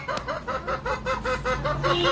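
Chickens cluck in a quick, steady series of short calls, close by and moderately loud.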